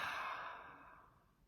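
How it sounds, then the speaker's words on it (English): A relaxed, deep out-breath from an adult: one soft, airy exhale that starts close and fades steadily over about a second and a half. "take 3 relaxed deep breaths"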